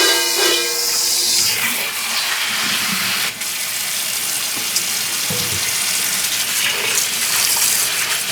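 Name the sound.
tap water washing salad ingredients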